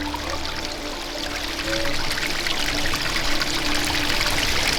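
Clean spring water piped down from a mountain on Mount Rinjani pours steadily in a continuous splashing stream, close and fairly loud, growing slightly fuller partway through, with no talking.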